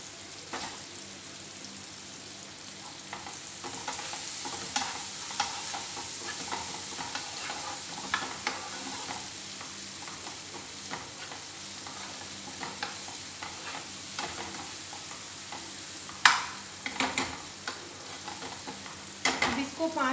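Spiced bottle gourd sizzles in a pan with kasuri methi while being stirred, a soft continuous frying hiss broken by scraping strokes and a few sharper clinks near the end.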